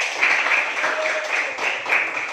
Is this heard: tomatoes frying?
no